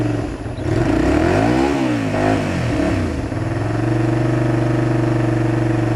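A Honda VTR250 V-twin motorcycle engine revs up and down in a couple of loud sweeps and then settles into a steady, throbbing idle, close and alone with no talk.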